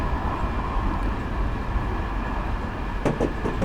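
A passenger train in Train Simulator 2015 coasts with its power idled on the Oceanside to San Diego line. A steady, loud rolling rumble fills the cab, with a few sharper rattles and clicks near the end.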